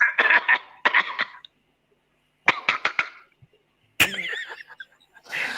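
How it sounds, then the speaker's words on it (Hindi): A man coughs in close, loud bursts: a series of hacking coughs, a silent gap, then another cluster of sharp coughs. A rougher throaty sound follows at the end. "मेरे को तो खांसी आ रही है भाई जब से"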